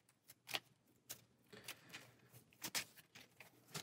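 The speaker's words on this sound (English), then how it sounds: "It's hard to shuffle just a few cards." Someone shuffles only a few playing cards during a solo card game, producing soft, uneven riffling and tapping bursts up close, with no talking.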